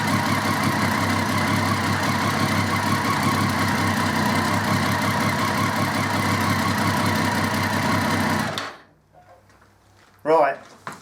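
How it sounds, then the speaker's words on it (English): A 2013 Triumph Street Triple R motorcycle engine idles at normal operating temperature, a steady, even drone held for about eight seconds before cutting off abruptly, followed by quiet with a brief voice. "I've had that running for about 10 minutes or so, just to get it up to normal operating temperature"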